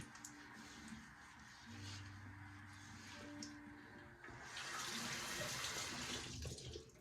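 Water runs steadily from a tap, a continuous hiss that swells louder and brighter partway through, with faint clinks and background sounds underneath.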